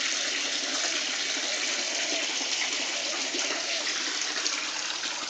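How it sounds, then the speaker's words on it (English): Water in an aquaponics tank with two air stones and a running filter makes a steady, close hiss of bubbling and rushing water, unbroken and even throughout. "We have 2 air stones. We also run the filter."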